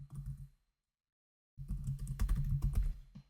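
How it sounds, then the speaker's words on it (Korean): Keys clatter on a computer keyboard during spreadsheet-style software work, a dense burst of clicks, a second of silence, then a longer close run of rapid typing. "키보드에서 Alt AC 선택하신 다음에"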